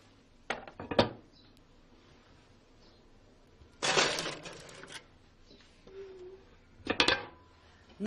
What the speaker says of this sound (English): And I'm just going to put it into the oven